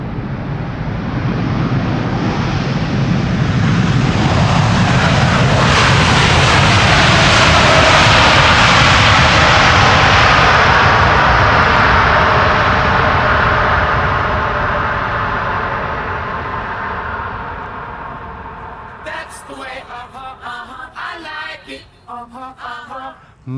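An Air China Cargo jet lands after a long flight from Shanghai, engines roaring loud and close in a broad rising then fading rush with thrust reversers, dying away near the end with faint sounds behind.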